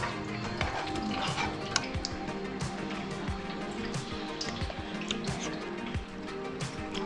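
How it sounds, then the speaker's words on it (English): Thick, sticky spicy red sauce pours into a bowl, giving close, wet dripping and squishing sounds with soft liquid trickles and small clicks throughout, with no talking. "it's quite sticky, so we're just going to pour that into the bowl here"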